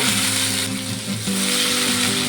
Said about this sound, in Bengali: বাকি মাছটাকে একইভাবে ভেজে নেব